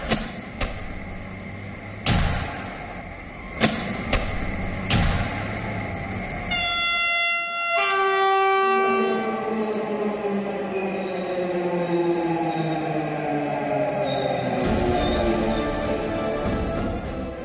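India's first driverless metro train runs along its track, a steady rolling rumble with clacks of wheels over rail joints, a few sharp knocks early on and a bright tonal horn or chime sweeping through the middle, close and continuous throughout.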